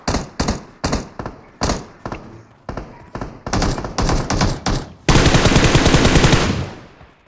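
Gunfire in the video game PUBG Mobile: loud, close single shots spaced irregularly, building into quicker bursts and ending in a sustained rapid automatic volley.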